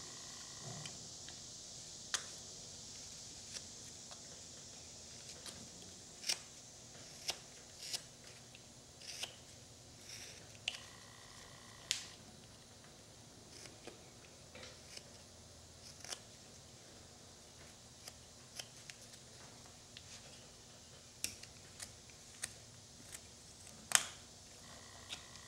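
A knife carving a wooden arrowhead neckerchief slide makes scattered soft cuts and scrapes down to a stop line, faint and close, with irregular small ticks spaced across a quiet background.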